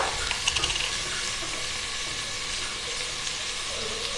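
Ginger garlic paste fries in a pan with a steady, close sizzle and hiss, stirred now and then, with a few light taps near the start.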